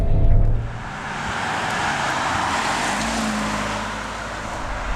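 A 2018 Alfa Romeo Stelvio Quadrifoglio drives at the Circuit of The Americas, giving a loud, steady broadband roar of engine and road noise with a brief louder swell at the start.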